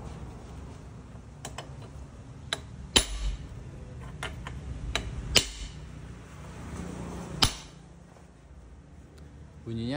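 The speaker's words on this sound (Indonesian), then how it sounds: "Kayak ada benturan besi sama besi." Hammer blows on metal while fitting a motorcycle steering head bearing race: a handful of sharp, ringing metal-on-metal strikes spaced irregularly, close and fairly loud over a steady background hum.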